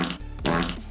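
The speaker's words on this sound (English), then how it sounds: "This is the fart button." A single short fart sound effect played from a Twitch chat soundboard button, loud and close, with a brief gap in the middle before a longer buzzy second part.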